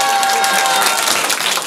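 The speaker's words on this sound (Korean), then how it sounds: "다시 한번 박수 한번 주세요" A school audience at a youth video-story camp applauds, a dense, even wash of clapping with some crowd noise throughout.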